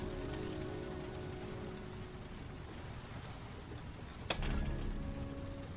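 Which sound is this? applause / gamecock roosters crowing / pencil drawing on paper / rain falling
rain falling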